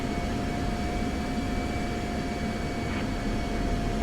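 An F-16C jet engine idling on the runway in the DCS flight simulator, a steady loud broadband roar with a constant whine running throughout and no voices.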